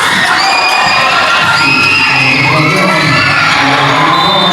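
A crowd at a school sports match between Liceo and Crescencia cheers and shouts loudly and continuously, with children's high-pitched yells and whoops rising and falling throughout.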